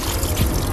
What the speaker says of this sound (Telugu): మంచిగా నీట్గా కడుక్కొని నీళ్ళు వరవోసుకోవాలి